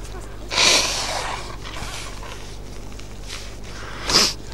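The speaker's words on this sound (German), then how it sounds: "Ich muss meine Nase putzen." Nose blowing by someone with a cold, two sharp bursts of air at the start and end with a quieter snuffling stretch between, close to the mic.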